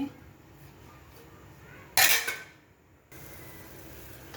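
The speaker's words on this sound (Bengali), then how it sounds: "ঢাকনা দিয়ে ঢেকে দিচ্ছি" A lid clanks down onto a pot of rohu fish curry simmering on the stove, one sharp metallic clatter with a short ringing tail over a quiet kitchen background.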